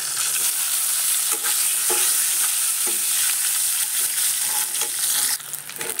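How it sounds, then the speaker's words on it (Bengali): Three eggs fry in oil in a pan after brinjal, giving a loud steady sizzle with repeated stirring and scraping clicks, easing slightly toward the end. "এবার ওই একই কড়াইতে আমি ডিম তিনটে দিয়ে ভেজে নেব।"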